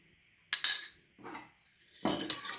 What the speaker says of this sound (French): je mélange bien, voilà